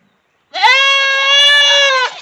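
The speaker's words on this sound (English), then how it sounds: "this damn goat is cussing Tisha out." A farm goat in Asheville, North Carolina lets out one loud, sustained bleat lasting about a second and a half, a harsh wavering cry heard alone without talk.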